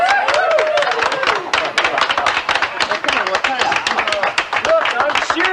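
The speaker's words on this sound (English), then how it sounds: "let's give these guys a big hand of applause." A group of people claps in applause, dense, sharp hand claps continuing steadily and close throughout.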